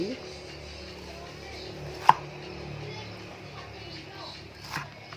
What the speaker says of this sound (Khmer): ឥឡូវយើងចាប់ហាន់ពោតខ្ចីរបស់យើង